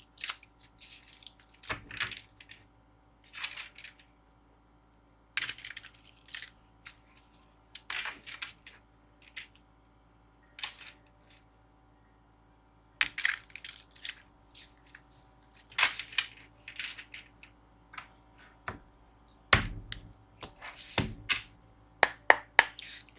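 A tarot card deck being shuffled by hand: irregular bursts of crisp card riffles and taps separated by short pauses, close and fairly quiet, with no talking.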